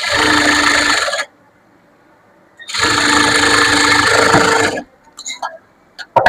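A sewing machine stitches a blouse in two steady bursts of fast, even motor whirring, close and loud, separated by a pause, followed by a few faint clicks and handling sounds.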